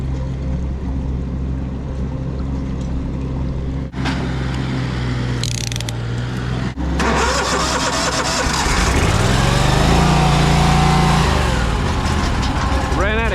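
A gas engine, likely a chainsaw or similar tree-cutting power tool, runs at full throttle with a steady, loud drone that shifts and climbs in pitch toward the end as it runs out of fuel, with some mechanical clatter mixed in.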